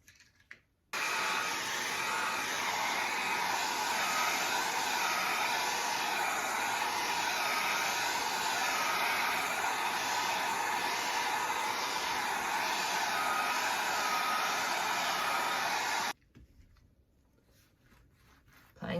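A hair dryer blows over a freshly applied coat of metallic decorative plaster, a steady airy whir that switches on abruptly, runs evenly for about fifteen seconds, then cuts off.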